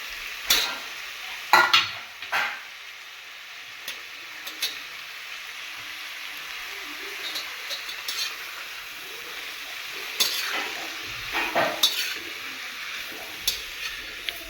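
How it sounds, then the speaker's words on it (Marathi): Mushrooms stir-fried in masala in a pan, a low steady sizzle punctuated by clusters of sharp scraping stirs and clinks of the spoon, close, with no voices. "आता मी बाकीचे सर्व मशरूम टाकून देते याच्यात"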